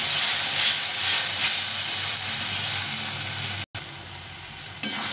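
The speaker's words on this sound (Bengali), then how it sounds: "মশলাটা কষা হয়ে আসছে" Spice masala with chilli powder and a splash of water stir-fried in a pan, giving a loud, steady sizzle and hiss with faint stirring, broken by one brief cutout near the end.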